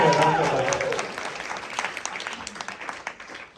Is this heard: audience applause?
yes